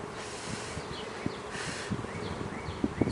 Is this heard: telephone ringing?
no